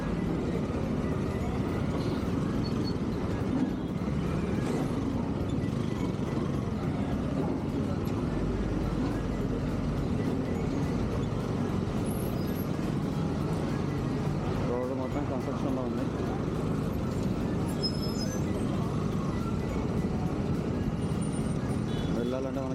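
Heavy city road traffic by a flyover in Hyderabad, with cars and buses rumbling past continuously, engines droning and a hiss of passing vehicles, heard from a bike ride while people talk over it.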